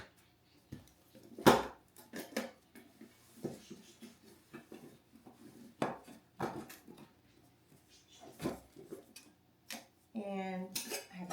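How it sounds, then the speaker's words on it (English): Metal pot and small pan from a backpacking cook kit clank and rattle as they are handled and packed, with sharp close clinks spread irregularly through the clip and a longer scraping rattle near the end. "And I have a pot with a little pan."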